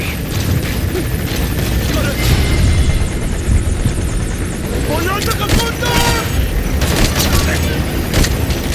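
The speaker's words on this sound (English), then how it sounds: "Support Chopper will be arriving any minute." A support helicopter in Metal Gear Solid V arrives with a steady, loud rotor roar, mixed with bursts of gunfire and game effects throughout.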